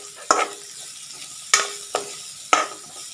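Red shallots dropped into hot oil with curry leaves for a Kerala prawn roast, a continuous frying hiss broken by four sharp scraping clanks of a spatula against the pan, close and without voices.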